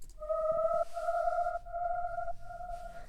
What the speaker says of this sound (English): This sound I actually made with a synthesizer.